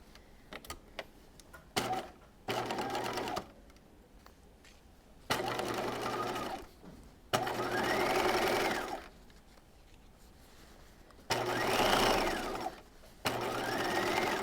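A sewing machine stitches a dress seam at a 2.5 stitch length in short runs and longer steady bursts, with brief pauses between, close and clear.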